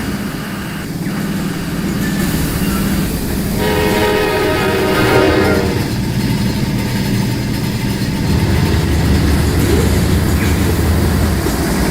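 A diesel locomotive in the train game Rolling Line, styled after a CSX unit, idles with a low rumble, then sounds a loud multi-tone horn blast for a couple of seconds before the engine drone carries on alone.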